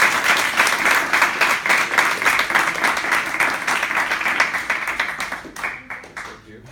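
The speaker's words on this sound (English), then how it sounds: "Let's give a big round of applause." A university audience claps after a presentation, loud and close with individual claps audible in the dense applause, which holds steady and then tapers away toward the end.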